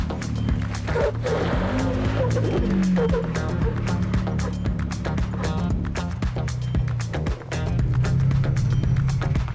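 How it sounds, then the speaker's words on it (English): A Ford Bronco crawls up rocks at Chokecherry Canyon, New Mexico, its engine droning steadily and loudly, with crunching and scraping from the tires and a brief dip in the rumble near the end. "Just drive your driver front tire right up that."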